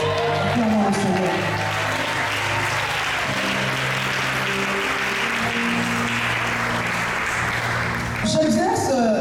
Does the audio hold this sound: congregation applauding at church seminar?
yes